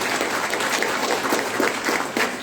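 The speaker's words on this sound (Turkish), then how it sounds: "Alkışlıyoruz." Audience at a two-day Uyghur gathering in Istanbul applauding, loud continuous clapping filling the whole clip at close range.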